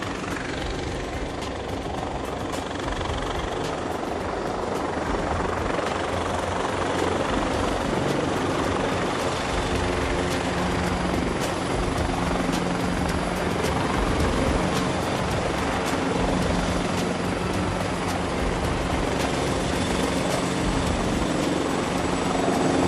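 A French Army military helicopter hovers low during a troop insertion on a plain, its heavy rotor thump and turbine roar loud, close and unbroken throughout.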